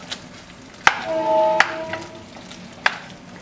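Meatballs simmering in tomato sauce in a small college kitchen, a soft steady bubbling sizzle broken by a few sharp utensil clinks against the pan.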